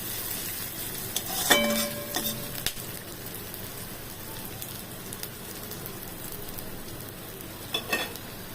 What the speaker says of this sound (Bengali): ঠিক আছে ভাজা তো হচ্ছে কোনো ব্যাপার না